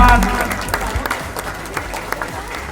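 An audience at a stage gathering applauds to welcome a guest onto the stage: short, dense clapping that starts loud and eases slightly, with talk over it.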